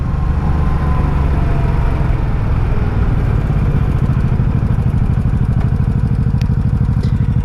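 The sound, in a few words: 1984 Honda Shadow VT700C motorcycle engine idling with noisy valves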